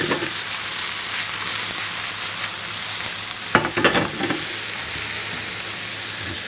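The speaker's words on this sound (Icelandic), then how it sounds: "Nú getum við byrjað að steikja sveppina með." Mushrooms frying in a pan for a large batch, a steady close sizzle running throughout with a brief burst of louder crackling and stirring midway, no talking.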